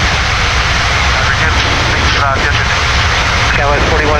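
A Turkish Airlines Boeing 787-9 jet taking off, a loud, steady roar of jet engines at full thrust, with radio chatter running underneath.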